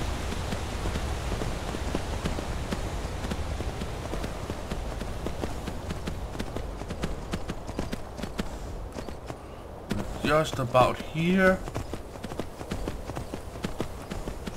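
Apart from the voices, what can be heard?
horse hooves clip-clopping in video game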